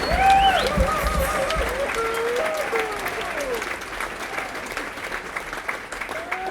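Applause and some cheering from a live festival crowd at Woodford for a musician, loud and dense at first, then thinning slightly, with a voice and whistling tones heard over it.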